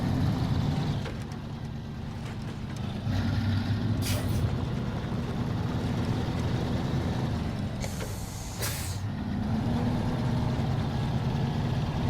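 A SnowRunner truck engine drones steadily at low revs while hauling a trailer over soft ground, with a few hissing air bursts mixed into the constant rumble.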